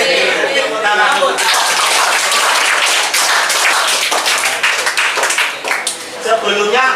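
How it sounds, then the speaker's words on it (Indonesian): A school class claps hands together during a long jump lesson, a loud, dense, continuous burst of applause lasting several seconds with voices mixed in. "Tepuk tangan dulu."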